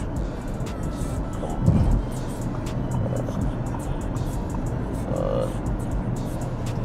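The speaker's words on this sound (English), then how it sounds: "Drive the car in manual if you can, so it doesn't drone as much." Steady low road and engine drone from inside a car moving through Manhattan, New York City, with rumbling and scattered clicks throughout.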